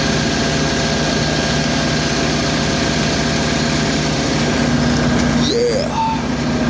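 Heavy log loader engine running steadily at close range, a continuous low diesel drone with mechanical vibration throughout.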